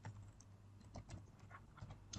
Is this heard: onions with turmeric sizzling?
no